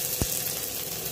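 Whole cumin, bay leaf and chopped onion sizzle in hot mustard oil, a brief, steady hiss of frying with one sharp tick near the start and no voices.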